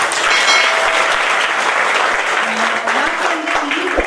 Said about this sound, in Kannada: ಫಸ್ಟ್ ಒಂದ್ಸಲ ನಿಮ್ಗೋಸ್ಕರ ಚಪ್ಪಾಳೆ ಹೊಡ್ಕೊಳ್ಳಿ